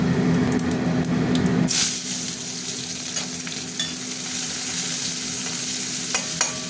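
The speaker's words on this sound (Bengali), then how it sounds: "পেঁয়াজ দিয়ে দিলাম, পেঁয়াজটা একটু ভাজা ভাজা হোক।" Onions frying in hot oil in a home kitchen while a prawn curry with ridge gourd and pointed gourd is made, giving a steady close sizzle and hiss with occasional stirring clatter, after a brief louder burst at the start.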